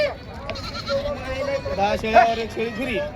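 Goats bleat at a crowded goat market in Borda, with several wavering calls rising over steady background chatter and someone talking nearby.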